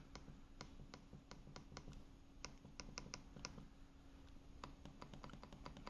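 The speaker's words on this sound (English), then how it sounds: "This is how it looks when you click, or how it sounds when you click." Sharp, crisp clicks from the trackpad of a 2019 Razer Blade 13-inch laptop come in irregular bursts, some quick doubles, close and clear over a faint hiss.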